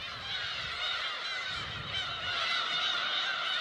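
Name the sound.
black-tailed gulls calling on uninhabited island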